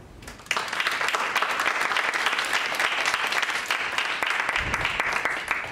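Sustained applause from a seminar audience welcoming a speaker, dense steady clapping that starts abruptly after a brief quiet moment and holds at an even level throughout.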